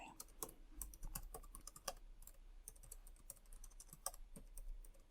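Quiet, close keyboard typing in a hotel check-in role-play, rapid irregular key clicks in short bursts with brief pauses between them, soft and intimate with no voices over it.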